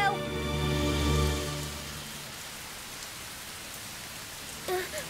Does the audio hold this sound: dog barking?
no